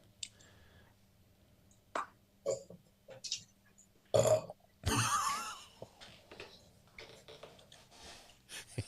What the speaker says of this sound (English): He just burped.